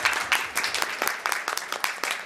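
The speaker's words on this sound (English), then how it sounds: "thank you to our panel. Round of applause." Audience at an indie comics expo applauding a panel, a steady, dense wash of clapping from many hands throughout, moderately loud and close.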